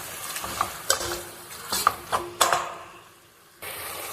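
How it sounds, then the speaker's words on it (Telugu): Chopped tomato is stirred into sizzling masala for pressure-cooker chicken biryani, giving a soft frying hiss punctuated by several distinct spoon-against-pan scrapes and knocks, close up with no speech. "టమోటా వేసుకొని బాగా ఇంకోసారి ఇలా కలుపుకోండి"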